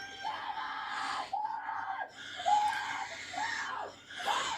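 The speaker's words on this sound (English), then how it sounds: "They should quit screaming." Several people scream in terror during a scene from the horror film The Mist, with shrill, wavering cries rising and falling in overlapping bursts.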